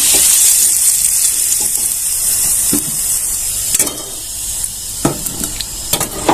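Bitter gourd (karela) pieces frying in hot oil, a loud continuous hissing sizzle close by, with a few sharp spatters and pops toward the end, no voices.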